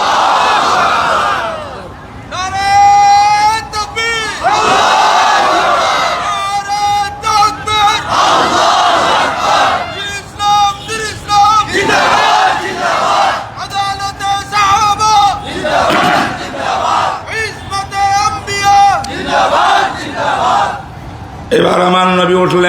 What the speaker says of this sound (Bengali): তাকবীর দেন, স্লোগান দেন, আল্লাহু আকবার।